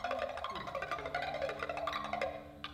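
Music played on an instrument in a concert imitates bubbly water, with a busy run of quick bright plucked or struck notes over a low steady tone, moderately loud and continuous, with no talking.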